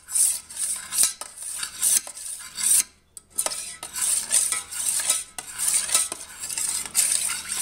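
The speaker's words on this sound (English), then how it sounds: "we're going to go ahead and give this a good stir" Baker's yeast being stirred into a container of homebrew, a steady run of scraping, clinking strokes with a brief pause midway, close and fairly loud with no talking.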